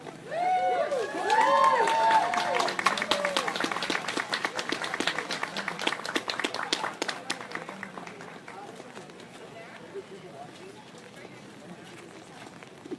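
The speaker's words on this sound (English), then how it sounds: "Can we just give a huge round of applause again for Grand Chief?" An outdoor Earth Day festival crowd at Grandview Park in Vancouver claps and cheers, a dense wave of applause with whoops over it that slowly tapers into scattered claps, voices shouting early on.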